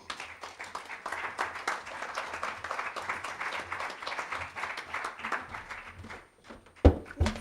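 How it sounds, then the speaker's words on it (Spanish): Dense audience applause fills a room at a book presentation for 'Crisol de vivencias', steady and sustained for about six seconds before it thins out and a few last claps land near the end. "Un aplauso para ella, por favor."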